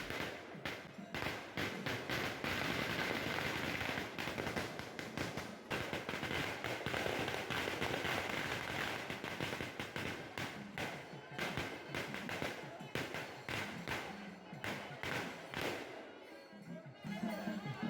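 Firecrackers burst in a dense, continuous crackling barrage at a temple festival procession, loud and unbroken for several seconds and then thinning out.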